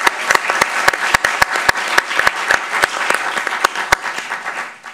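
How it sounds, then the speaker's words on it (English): An audience at a student involvement meeting gives a round of applause, a loud, sustained patter of many hands with crisp individual claps standing out, fading slightly toward the end. "Let's give her a round of applause."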